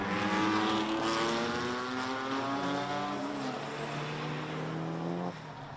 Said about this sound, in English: Toyota Corolla, inspired by the Colin McRae machine in the early noughties